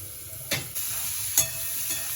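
Kalmi greens fry in a covered pan over low gas, giving a steady soft sizzle broken by a few brief scraping or stirring bursts.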